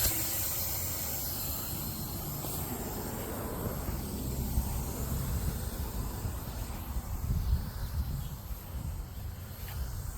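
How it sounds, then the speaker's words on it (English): A garden hose sprays water over garden plants such as basil and peppers, giving a steady, close hiss that runs unbroken throughout with only slight swells in loudness. "Go ahead and continue watering here."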